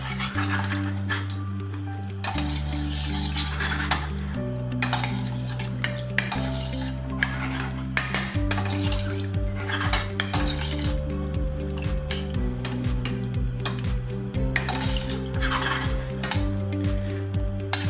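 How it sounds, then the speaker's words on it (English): Sweet and sour sauce ingredients are stirred in a pan over medium to high heat. A utensil scrapes and clinks against the pan in a continuous, busy rhythm, close by, with no talk. "Give it all the ingredients a nice stir."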